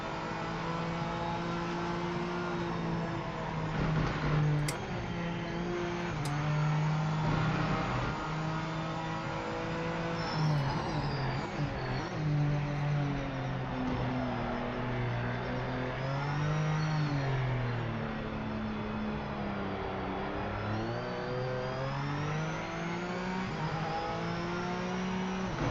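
A Honda NSX race car engine in Project Motor Racing, revving steadily and rising and falling in pitch through gear changes over a long continuous run, a smooth sustained drone with no voices.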